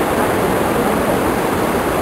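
A forest waterfall pours down from its upper source into the pool below, a loud, steady, unbroken rush of falling water that fills the whole moment with no voices.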